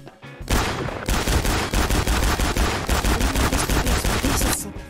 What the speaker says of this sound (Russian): Офигенно стреляет, мне нравится, прям быстро.